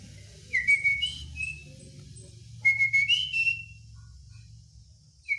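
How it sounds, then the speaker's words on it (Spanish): A pet parakeet whistles indoors in two bursts of bright, sliding high notes, with short chirps between them and a soft low hum underneath. "Amiguito, silba, por favor."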